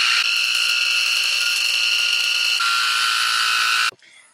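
A handheld vacuum cleaner fitted with a small bristle brush cleans a sofa, giving a loud, steady high-pitched whine that shifts in tone partway through and then cuts off abruptly near the end.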